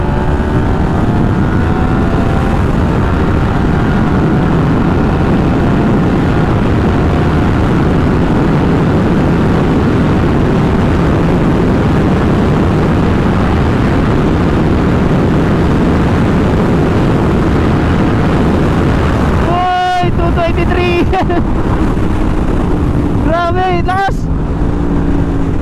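Yamaha MT-10 big bike roars at high speed with a loud aftermarket exhaust, a sustained drone buffeted by wind, then a few sharp rising engine whines near the end.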